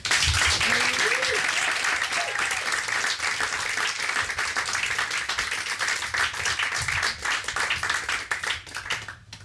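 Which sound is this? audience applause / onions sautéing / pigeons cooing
audience applause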